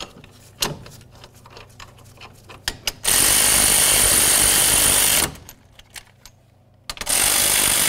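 Caliper bracket bolts on a 2010-2013 Ford Transit Connect are driven in by a power tool, two loud sustained whirring bursts of about two seconds each with brief clicks and clanks of metal in between, close up and with no talk.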